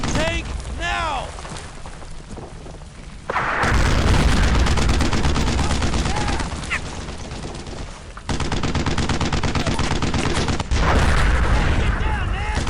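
Heavy World War II battle gunfire from the video game Brothers in Arms: Earned in Blood, with sustained machine-gun bursts and booming blasts. Shouting voices sit under the loud, continuous firing while the squad targets a Panzer IV tank.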